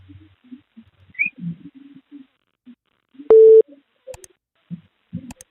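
A telephone busy tone sounds once as a short, loud electronic beep after a call hangs up, set among faint, scattered voices and room noises over a phone line.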